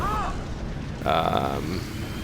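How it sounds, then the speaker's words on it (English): A tank cannon fires in World of Tanks, a Panther 8,8 taking a shot, heard as a single booming blast with a ringing tail over continuous game noise and engine rumble. "So I just took a shot there to see if I could get something working here."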